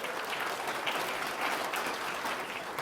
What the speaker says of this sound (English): Give a big round of applause for yourselves for showing up and showing out.